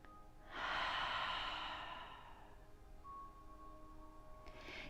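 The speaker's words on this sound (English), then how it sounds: "Take a round of breath here." Deep breathing during seated yoga: one long, close breath that swells and then fades, followed by quiet and the start of another breath, with no speech.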